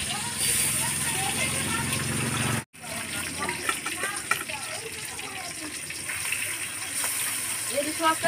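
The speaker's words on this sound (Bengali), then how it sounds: "মাছটাকে হালকা করে ভেজে নিতে হবে" Hilsa fish pieces fry lightly in hot oil in a pan, a dense, close crackling sizzle that runs steadily apart from one abrupt momentary cut, with a voice speaking over it.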